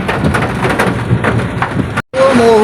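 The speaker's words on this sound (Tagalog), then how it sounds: "Umuhos na ng ulan guys." Heavy tropical storm rain pours down on a street in Pasay along EDSA, a loud, dense, continuous hiss with a brief dropout, then steady downpour with faint tonal background sounds.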